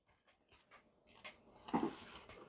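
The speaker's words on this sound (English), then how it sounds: "this damn dog is pissing me off" A dog pants softly and whimpers nearby, faint breathy puffs at first building to a louder whine and snuffle near the end, with no talk over it.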